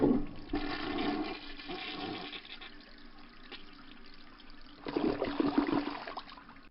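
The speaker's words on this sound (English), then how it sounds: "Flush the toilet." A toilet flushes with a loud rushing surge of water that eases into a long gurgling refill, then swells again near the end, with no voices over it.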